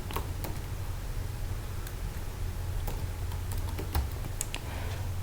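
Keystrokes on a computer keyboard while writing in Microsoft Word, faint and scattered over a steady low hum, with no voices.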